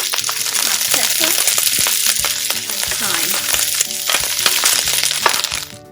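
Onions, peppers, carrots, garlic and hot pepper for a red snapper escovitch fry in a pan, with loud, steady sizzling and crackling and occasional clinks of stirring, close up, with no talk.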